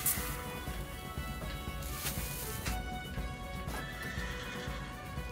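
A horse in the video game Unravel 2 lets out a loud neigh and whinny over clip-clopping hooves and busy game effects, sounding close and prominent throughout.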